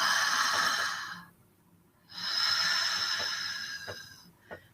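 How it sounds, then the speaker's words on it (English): Two long, airy breaths drawn in and pushed out through the mouth, close and alone, with a soft pause of near silence between them during a calm breathing exercise. "So breathing in through the mouth, breathing and exhaling out through the mouth."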